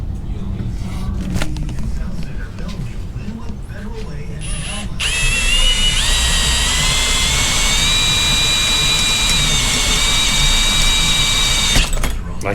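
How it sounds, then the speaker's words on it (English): A hole saw bores through metal while swapping a Crown Vic to a Tremec 3650 five-speed manual, giving a loud, steady high-pitched whine and grind for several seconds after a rough start with a voice. "You want to try and keep the hole saw from digging"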